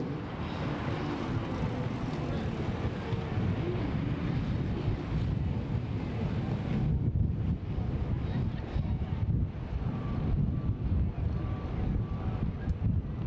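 Strong headwind buffets the microphone at an outdoor women's collegiate road criterium in Albuquerque, a continuous loud rumbling roar with gusty surges throughout, and no voices heard.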